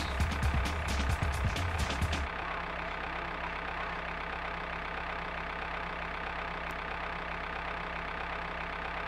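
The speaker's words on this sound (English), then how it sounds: "There's a tractor." A tractor engine in the video game Team Buddies hums at a steady idle throughout, with a rougher, busier burst of rumbling at the start before it settles into an even drone.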